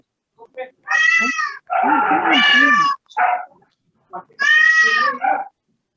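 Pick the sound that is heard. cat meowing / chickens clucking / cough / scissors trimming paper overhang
cat meowing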